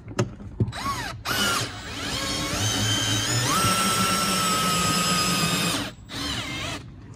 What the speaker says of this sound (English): What I like about this drill, so I just push a button and it goes in the reverse.